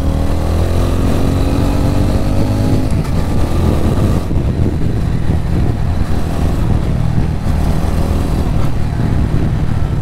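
A TVS Ronin motorcycle rides along a road, its engine note loud and close with a steady rumble and rising revs early on, then continuous road and wind noise.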